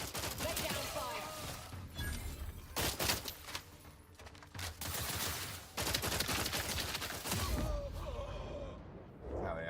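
Video game gunfire in an alien-planet shooter, bursts of rapid shots crackling loudly in several volleys across the span, with brief lulls between them and no speech.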